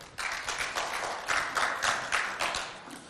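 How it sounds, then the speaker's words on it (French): An audience at a school poetry contest in Moundou claps in quick uneven bursts, a small crowd's applause rising and falling over a few seconds with no voices over it. "On l'applaudit, s'il vous plaît."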